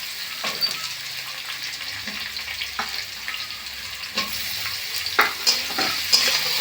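Chopped onion, tomato and green chilli stir-fried in oil in a pan, a steady close sizzle with repeated scraping stirs of a spatula, heard alone with no talk.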